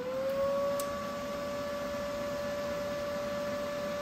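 An RTEC MIG 180 welding machine, set to MMA stick welding, is switched on and gives a steady, close electrical hum with a faint constant whine that holds evenly throughout.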